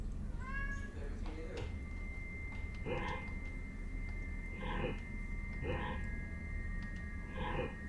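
A house cat yowling a couple of times near the start, followed by repeated bursts of a person talking over a steady low background hum.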